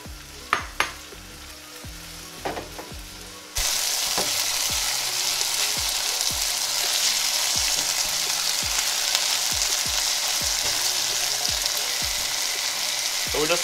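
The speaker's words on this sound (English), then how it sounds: "now we're just gonna add our saltfish" Saltfish for ackee and saltfish hits a hot pan with a sudden loud, sustained frying sizzle that fills the rest of the clip after a few quieter clanks, with rhythmic music pulses underneath.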